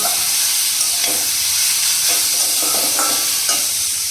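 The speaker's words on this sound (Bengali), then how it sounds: "এই যে ফুলকপি ভাজা হচ্ছে" Cauliflower and potato fry in a pan on low heat, giving a loud continuous sizzle close by, broken by scraping stirs and light clatters of the spatula.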